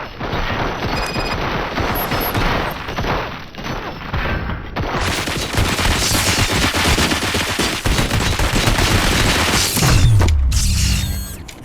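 Dense bursts of automatic gunfire and heavy booms from the RoboCop: Rogue City video game, loud and sustained with mechanical clatter between volleys.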